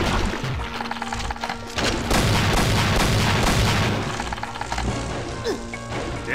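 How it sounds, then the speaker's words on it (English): A triple-barrel shotgun fires in a Doom mod video game: loud, heavy booming blasts and crashing impacts pile into a dense, continuous barrage of game combat sound. "It's like a cannon triple barrel shotgun."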